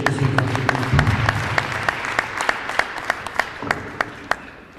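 A crowd at the Northern Cape Crime Indaba applauds warmly, the clapping thinning out toward the end, with a few individual claps standing out and a brief murmur of voices.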